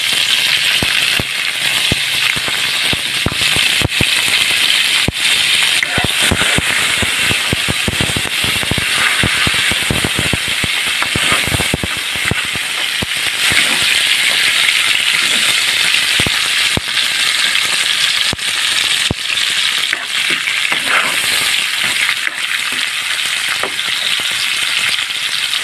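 Chopped tomatoes frying in a hot pan, a loud, continuous close sizzle peppered with sharp crackles and spitting pops throughout.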